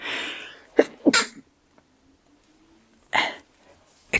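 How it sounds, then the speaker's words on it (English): A single sharp sneeze bursts out close, with a short breathy lead-in, then a second burst. Quiet follows, and a faint low hum leads into another brief breathy noise. "I sneezed"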